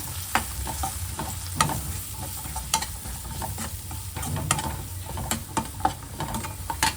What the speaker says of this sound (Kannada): ಒಂದು ಮುಕ್ಕಾಲು ಸ್ಪೂನು ಗರಂ ಮಸಾಲ ಒಂದು ಮುಕ್ಕಾಲು ಸ್ಪೂನು ಮೂರುವೆ ಸ್ವಲ್ಪ ಫ್ರೈ ಮಾಡ್ತಾಯಿದ್ದ